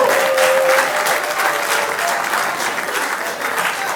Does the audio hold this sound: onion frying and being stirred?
no